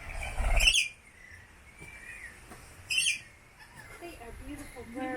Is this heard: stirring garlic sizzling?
no